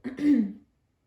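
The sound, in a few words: woman clearing her throat after a sip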